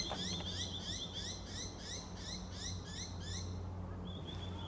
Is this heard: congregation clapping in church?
no